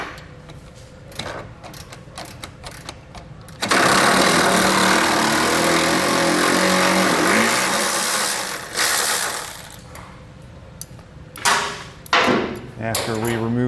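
An impact wrench or power driver with an 18mm socket spins a nut off a pass-through bolt on a vehicle base plate mount, a loud sustained whir lasting several seconds, preceded and followed by quieter clicks and handling noises.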